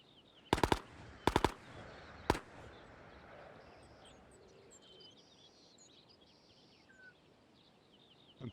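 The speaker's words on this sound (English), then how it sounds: "NPC's now shooting at a dude in the tower" Gunfire from NPCs in the Ghosts of Tabor video game: two quick bursts of sharp shots and a single shot, loud, then fading into quiet ambience with faint bird chirps.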